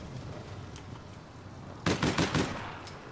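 A quick burst of several rapid gunshots rings out in the video game APB Reloaded, faint and clipped, after a brief earlier shot and over quiet background.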